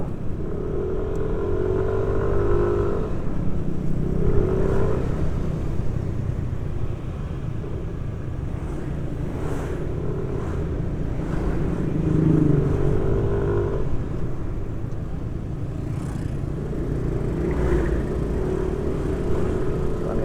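Steady motorcycle engine rumble while riding along a busy left-hand village road toward Solo, with passing traffic swelling and fading around the bike throughout, loud and continuous with no talk.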